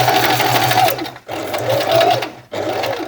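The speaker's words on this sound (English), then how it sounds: "use the back stitch and go all the way back, and then all the way forward again" A sewing machine runs back and forth stitching across tote bag webbing, loud and close. Its steady motor whir comes in three runs split by brief pauses where the stitching direction is reversed.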